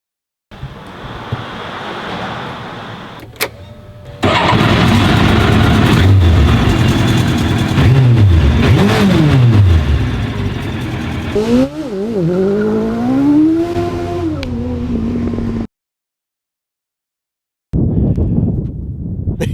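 A Light Car Company Rocket, a lightweight two-seat sports car, roars as it accelerates hard, its engine note sweeping up through repeated rising gear pulls, heard close with heavy wind rush and a sudden cut to silence before resuming.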